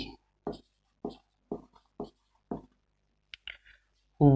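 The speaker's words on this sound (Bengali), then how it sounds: "তো এখানে আমি লিখছি" Chalk or marker strokes on a board come in a run of about seven short, evenly spaced scratches, close and distinct against silence, ending with a brief voice.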